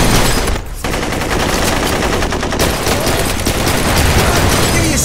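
Loud, sustained automatic gunfire from the shooting video game Blue Estate, a rapid continuous rattle of shots filling the whole stretch with only a brief break near the start.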